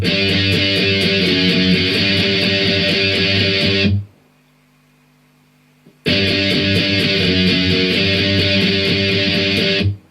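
Distorted electric guitar octaves from a song's interlude: a loud, driving strummed phrase, a two-second pause with only faint hum, then the same phrase played again.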